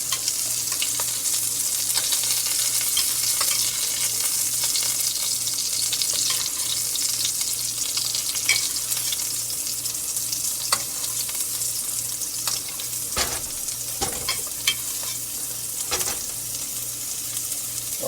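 Rosemary lamb steaks frying in oil in a pan, a steady dense sizzle holding loud and even throughout, with a few sharper pops and crackles near the end.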